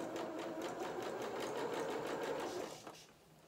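Sewing machine stitching a trouser seam for a doll's culottes, a quiet, rapid stitching rattle that runs steadily, then slows and stops near the end, with no talk over it.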